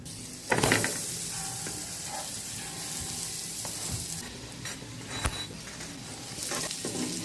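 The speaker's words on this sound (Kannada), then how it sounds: "ಎರಡೂ ಸೈಡು ಸ್ವಲ್ಪ ಬೆಣ್ಣೆ ಹಾಕ್ಕೊಂಡು ಲೋ ಫ್ಲೇಮ್ನಲ್ಲಿ ನೀಟಾಗಿ ಎರಡೂ ಸೈಡು ರೋಸ್ಟ್ ಮಾಡ್ಕೊಳ್ಬೇಕು" A cheese paneer paratha roasts in butter on a pan over low flame, giving a steady, close sizzle with a few sharp scrapes and taps.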